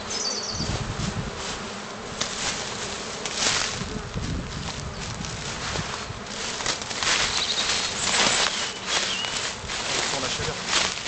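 Black honeybees buzzing around an open hive during a spring colony inspection, a dense continuous hum close by, with occasional rustling and handling noises.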